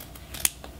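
Scissors snip once through ribbon while making a boutique bow, a single crisp close cut with a couple of fainter clicks around it.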